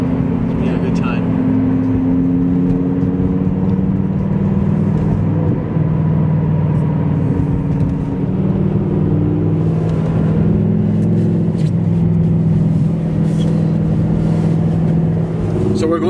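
Convoy of cars cruising along Lakeshore, heard from inside a vehicle as a loud, steady engine drone and road rumble that continues unbroken throughout.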